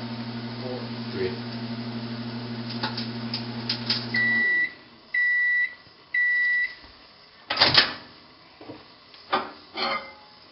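A kitchen microwave oven hums steadily, then sounds a series of three sustained electronic beeps, followed by a few clatters and clunks nearby.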